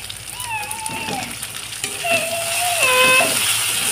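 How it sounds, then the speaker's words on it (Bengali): Spices such as ground black pepper, cumin and coriander frying in a little oil in a pan, a steady sizzle with faint scraping and stirring sounds. "দিয়ে আমি মশলাটাকে ভালোভাবে কষিয়ে নেব।"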